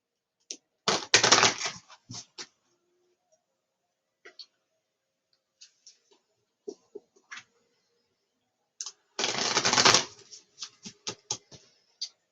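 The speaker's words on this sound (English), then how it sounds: "So now I'm going to use the archetype deck." Archetype cards from a deck are shuffled close by in two dense bursts of riffling, followed by scattered soft clicks and taps as the cards settle, with no voices.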